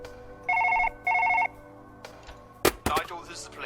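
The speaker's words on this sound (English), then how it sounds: "the phone just won't stop ringing" A telephone rings in two short, bright trilling bursts, loud and close, followed by clattering handling sounds and a brief voice.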